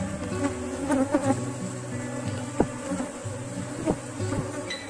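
A honeybee swarm hums steadily as forager bees fly back to a hive box in a Brazilian apiary, a dense layered drone with a few louder bees buzzing close past.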